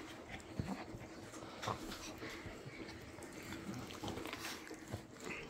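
Husky dogs pant and scuffle in play at close range, with steady breathy panting, snuffling and small whimpers running continuously at a low level.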